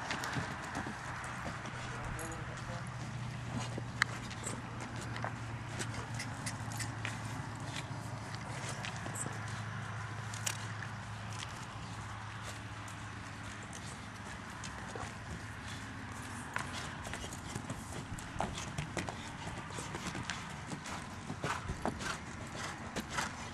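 Horse hooves clip-clop at a walk on the ground, faint and irregular beneath steady background noise, with a person talking throughout.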